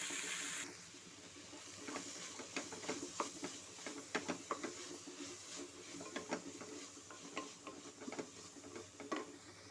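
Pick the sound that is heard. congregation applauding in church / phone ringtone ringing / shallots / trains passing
shallots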